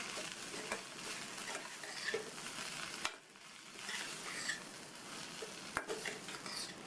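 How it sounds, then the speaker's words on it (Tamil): Fried plantain being stirred into masala in a pan, a spoon scraping and tossing pieces with a soft sizzle underneath and a few sharp clacks against the pan. "எண்ணெயில் பொரித்த வாழைக்காயை இதில் சேர்த்துட்டு நல்லா ஒரு தடவை மிக்ஸ் பண்ணி விட்டுக்கணும்"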